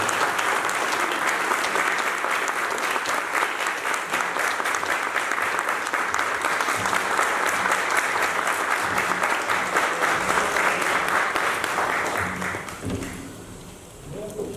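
An audience at a welcome ceremony claps loudly and steadily for an arriving speaker, a dense roar of applause that keeps going for about twelve seconds before tapering off quickly.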